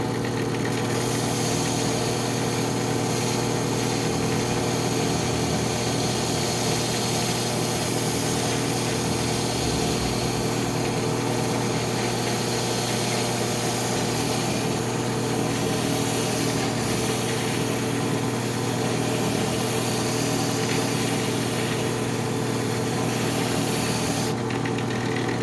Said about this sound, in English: the sandpaper will actually sand everything to shape